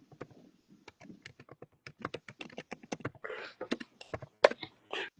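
Fingers type on a laptop keyboard close by, rapid irregular clicks of keys in quick bursts with brief pauses, fairly quiet and alone.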